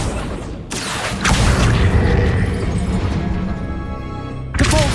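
A Depulso spell blasts in Hogwarts Legacy, a heavy booming burst with a crashing impact and a rumbling tail, then another sharp burst near the end, loud and close.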